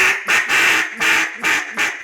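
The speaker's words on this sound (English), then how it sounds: "Little easy quacks, or you can step it up." RNT DC Mondo cut-down duck call blown in a run of five loud, close quacks with short gaps between them, no other sound around it.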